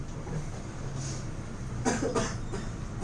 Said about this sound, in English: He's dying of cough because I said that.